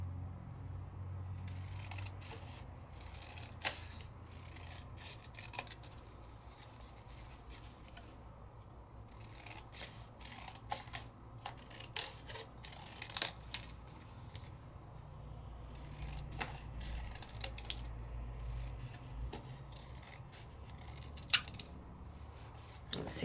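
Scissors trimming a paper layering stencil, snipping in quiet, irregular crisp cuts with faint rustling of the paper between them, close by.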